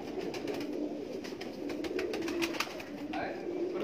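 Pigeons cooing in a low, continuous murmur, several birds close by, with soft rustling and clicks mixed in.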